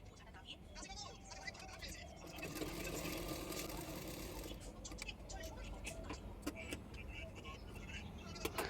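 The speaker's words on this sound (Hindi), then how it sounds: "बेल्ट के ऊपर भी मैंने किनारे किनारे पे एक सिलाई कर दूंगी" A sewing machine stitches along the edge of a blouse belt with a steady mechanical whir that runs for several seconds, close by, with a few clicks and taps of fabric handling.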